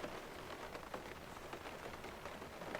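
Steady soft patter of rain drumming on a camper van roof overhead, a continuous dense crackle with no voices, fairly faint and even throughout.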